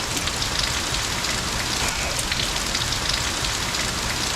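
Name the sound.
rain falling outside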